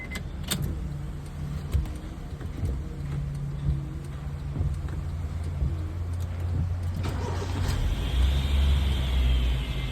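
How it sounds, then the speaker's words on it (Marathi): A Honda City car with a newly repaired ignition key switch is started up: keys clink and click first, then a low engine hum settles into a steady idle close by and grows a little louder near the end. "तर आपण आता बघू, गाडी करू स्टार्ट."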